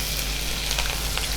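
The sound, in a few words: mustard seeds and chili frying in sunflower oil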